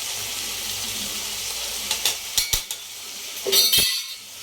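Mutton varuval frying in a pan after fennel powder goes in: a steady soft sizzle with a few sharp metallic clinks and scrapes of a spoon stirring against the pan, fairly close, with no talking.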